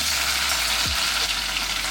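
Chopped onions and shallots fry in groundnut oil for a tempering, a loud, dense, steady sizzle throughout with a couple of low clunks from the pan.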